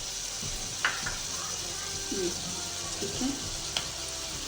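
Soy sauce goes into a hot pan with spaghetti sauce and sizzles in a soft, steady hiss, with a few light clinks, and a voice briefly speaks.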